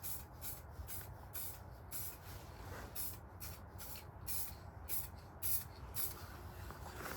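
A rattle can sprays lacquer onto an Opel car part in a quiet room, giving repeated short bursts of hiss in an uneven rhythm, faint and close.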